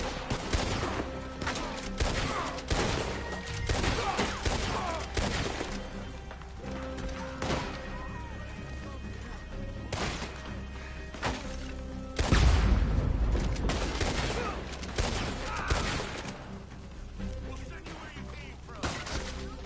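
Gunfire in a Red Dead Redemption 2 Online match on PS4, a dense run of overlapping shots and bangs across the whole stretch with a heavier burst midway, steady and fairly loud throughout.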